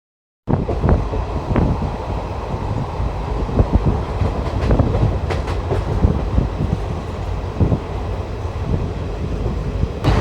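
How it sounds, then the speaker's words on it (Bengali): A train rolls along steadily after leaving Katwa Junction, with rumbling wheels, occasional clacks on the track and wind rushing past the microphone. "আমাদের ট্রেন কাটোয়া জংশন ছেড়ে দিল"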